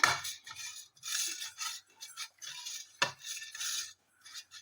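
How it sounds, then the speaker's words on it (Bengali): Oil spread around the inside of a bowl while making semolina dhokla: scraping, stirring strokes of a utensil against the bowl in irregular bursts, close and fairly quiet, with no talk. "তেলটা বেশ ভালো করে বাটিটার মধ্যে মাখিয়ে নেব"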